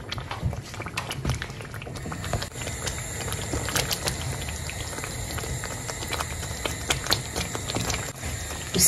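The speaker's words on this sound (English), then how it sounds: "Go ahead and then stir everything in." Beetroot and tomato stew stirred in a pot, with bubbly simmering and wet, irregular sloshing and scattered clicks from the utensil, steady and moderately close, with no talking.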